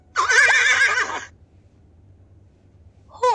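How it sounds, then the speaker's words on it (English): A horse gives a loud, close whinny lasting about a second, with a wavering high pitch, then a silent gap before a second whinny starts at the very end. "Horse."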